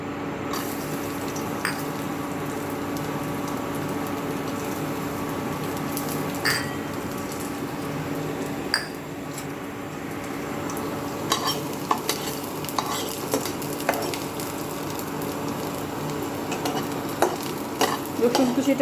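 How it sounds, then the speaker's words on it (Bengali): Chopped garlic fries in hot oil with an even, moderate sizzle, punctuated by occasional clicks and scrapes of stirring, heard nearby and alone without speech. "তেলটা একটু গরম হয়ে গেছে, তখন আমি এর মধ্যে রসুন কুচি দিয়ে দেবো।"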